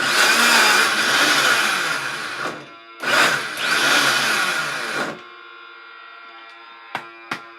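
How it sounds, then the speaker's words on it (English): A vacuum blender blending celery roars loudly, pauses briefly, roars again, then drops to a lower steady whine with a couple of sharp clicks near the end. "the celery is then now dropping into the blades"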